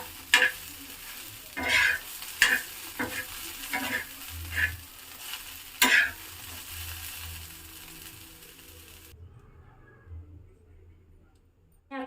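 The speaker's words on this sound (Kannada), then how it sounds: "ಸ್ವಲ್ಪ ಫ್ರೈ ಮಾಡೋದ್ರಿಂದ ಆಲೂಗಡ್ಡೆ ಎಲ್ಲ ಫ್ರೈ ಆಗಬೇಕಲ್ಲ" Potatoes and okra fry in a pan for a gojju, with repeated stirring scrapes and a steady sizzle. The sizzle is loud for about nine seconds and then drops to near silence.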